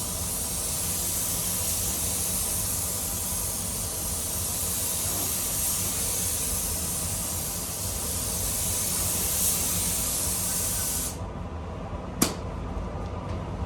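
Spray gun hissing steadily as it lays lacquer over a Honda Integra DC5 during a full repaint, a continuous close, loud spray that cuts off abruptly near the end, followed by a brief sharp click.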